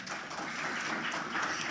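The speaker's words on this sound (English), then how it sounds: "Another round of applause for UNICEF." Brief burst of audience applause at a Caribbean child research conference, many hands clapping steadily and fairly close, filling the whole short moment without talk.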